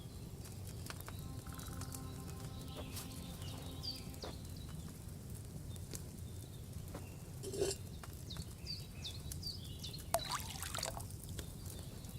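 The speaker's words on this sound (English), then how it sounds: "First, you have to pour the right base into the cauldron." Wine poured into a cauldron in the video game Kingdom Come: Deliverance II, a soft, steady trickle of liquid beneath a low ambient bed with faint birdsong and a few brief clinks.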